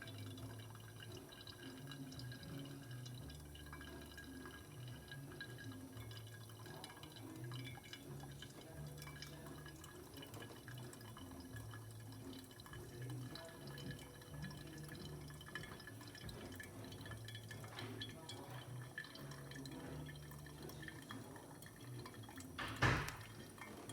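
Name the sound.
slow stream of water poured over coffee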